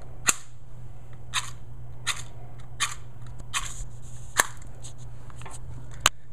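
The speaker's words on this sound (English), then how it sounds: "I'm going to see if we can get one of these to light." Coleman waterproof matches struck repeatedly against a striker after being sprayed damp, about eight sharp scraping strikes spaced roughly a second apart over a steady low hum, close and crisp with no flare catching.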